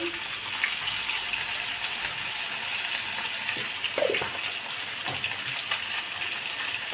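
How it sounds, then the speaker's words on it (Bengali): Cut taro and potato pieces fry in hot oil, a steady close-up hiss and sizzle that runs evenly throughout, with a few soft clinks and stirs. "কেটে রাখা কচুরমুখী আর আলু লাল লাল করে ভেজে নেবো সুন্দর করে"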